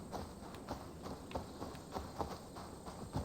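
A horse's hooves clip-clop at a steady walking rhythm in the game Assassin's Creed Valhalla, faint and evenly spaced under a soft game ambience.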